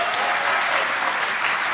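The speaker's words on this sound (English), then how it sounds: "Round of applause for that." A live audience at a culinary talk with chef Michael Solomonov breaks into dense, loud applause, a continuous wash of many hands clapping at once.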